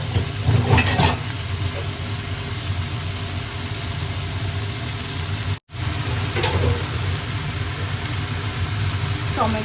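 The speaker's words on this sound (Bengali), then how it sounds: "জিরে ফোড়ন দিয়ে পেঁয়াজ দিয়ে দিলাম" Onions with cumin seeds fry in hot oil for a Bengali mutton curry, giving a loud, steady sizzle that runs throughout, broken by one brief dropout partway.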